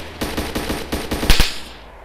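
Rapid bursts of video game gunfire in a battle, about a dozen loud close cracks in quick succession ending in a heavier double blast, with no talk.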